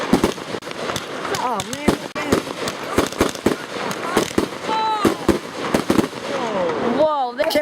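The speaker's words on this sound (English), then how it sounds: "Firework." Fireworks burst in a rapid, irregular series of sharp cracks and bangs, some with whistling rises, while several people cheer and talk excitedly between the blasts.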